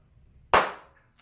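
A single sharp hand clap, close and loud, rings out after near silence and decays quickly in a small room, used to trigger a sound-activated circuit with an LED and lamp.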